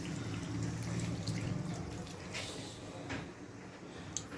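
A glass of water is poured into chicken curry cooking on a gas stove, a soft splashing pour followed by faint liquid sounds, quiet and close, with no talk.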